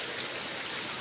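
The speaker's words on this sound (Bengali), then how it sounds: "আজকে সকাল সকাল বৃষ্টি পড়তেছে" Steady morning rain falls as a dense, even hiss with no distinct drops or breaks, quiet and continuous throughout.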